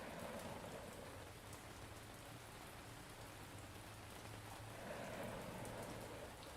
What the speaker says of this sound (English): Oh, it's raining, it sounds like.